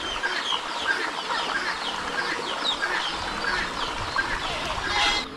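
A rooster calls amid a busy background of clucking chickens and other birds, the crowing fairly distant and mixed into the flock's chatter.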